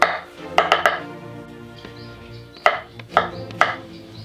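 A kitchen knife chops mushrooms into a bowl in a few sharp, close knocks on the board, grouped in quick pairs and spaced apart, loud against a quiet room.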